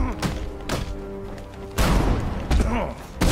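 Shotgun blasts in the video game Batman: Arkham Knight, several heavy booming shots spaced irregularly, loud and close, with game ambience between them.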